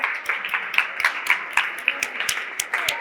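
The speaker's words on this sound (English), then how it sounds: "let's give him a round of applause" A small audience at a medical entrepreneurship expo gives a brief round of applause, scattered distinct claps at a fairly quick, uneven pace, moderately near and fairly quiet.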